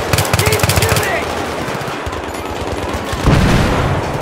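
Rapid bursts of automatic gunfire in the video game Battlefield 3, with a fast machine-gun rattle at the start, scattered shots after it and a heavier blast near the end, with voices shouting over the fight.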